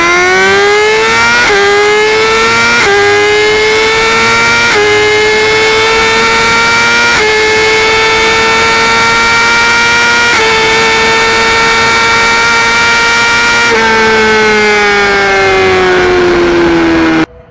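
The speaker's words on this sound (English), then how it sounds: "look at how my bike runs." A Suzuki GSX-R 1000 motorcycle engine with a Power Commander tune idling and revving steadily, its loud, close buzzing tone rising and falling in a few smooth swells over a continuous run, with no talk.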